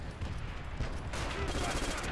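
Gunfire from Call of Duty: World at War, a burst of rapid shots layered over dense, steady game noise at close range.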